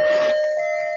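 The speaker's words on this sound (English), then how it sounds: "That is my wife's clock that her mother gave her." A household clock chimes a single clear bell-like tone that rings on and slowly decays, close by and fairly loud.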